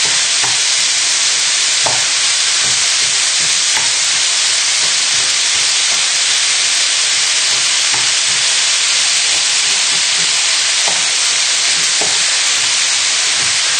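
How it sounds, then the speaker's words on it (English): Beef mince sizzling and frying in a pan, broken up and mashed about with a spoon; a steady loud hiss runs throughout with soft scraping and clicking stirs scattered across it. "So straight in with the mince. And then just break it up with your spoon and give it a good sort of mash about"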